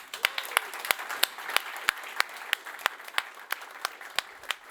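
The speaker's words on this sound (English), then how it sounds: "So a warm applause for Daniel." Sparse, scattered hand claps from a conference audience welcoming a Scala programming speaker, individual sharp claps spaced out rather than a dense ovation, moderately quiet with no voices.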